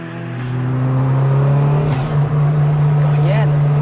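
A stripped-out 330 BHP Toyota Starlet Glanza engine drones loudly from inside the car, a steady low tone that builds as it pulls, with people talking over it.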